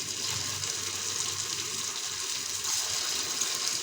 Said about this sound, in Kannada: ಶಬ್ದ ಹೆಂಗೆ ಬರ್ತಾ ಇದೆಯಲ್ಲ ಚರ್ರ ಅಂತ ಈ ಶಬ್ದ ಕೇಳೋಕ್ಕೆ ಚೆನ್ನಾಗಿ